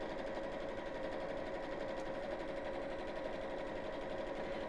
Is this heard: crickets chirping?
no